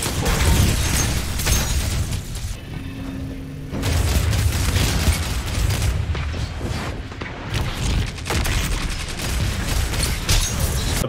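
Rapid, booming sidearm shots fire in Destiny, loud close bursts in clustered volleys with brief pauses between strings of fire.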